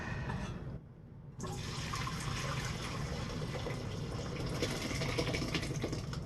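Liquid from a crockpot of corned beef, potatoes and cabbage is poured into a pot, a continuous wet splashing stream that briefly pauses then resumes, close and moderately loud with no talking.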